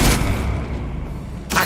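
A Confringo spell blast in Hogwarts Legacy: a loud, close, booming explosion that swells and rumbles for over a second, then a second burst begins at the end.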